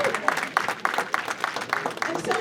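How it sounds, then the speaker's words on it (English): A seated audience at a Guyanese cultural day celebration claps together in a dense, steady patter of many hands, fairly close and continuous throughout, with a murmur of voices underneath. "Give yourselves a round of applause."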